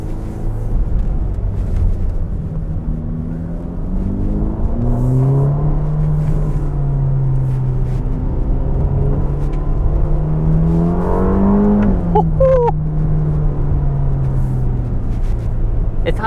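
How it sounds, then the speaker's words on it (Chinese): A Ferrari Roma engine revving as the throttle goes down, the pitch climbing smoothly through rising harmonics, easing off, then surging again with a sharp high whine near the end, heard from inside the car with steady road noise. "它这个油门下去的时候，哈，那个转速瞬间拉上去的感觉啊"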